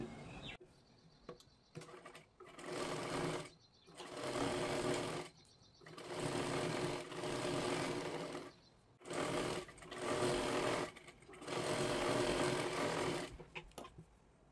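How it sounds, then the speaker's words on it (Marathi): Sewing machine stitching both sleeves of a blouse, running in several long steady bursts separated by short pauses, close and clear with no talking. "आपल्याला शिलाई करून घ्यायची आहे दोन्ही सुद्धा बाह्या इथे"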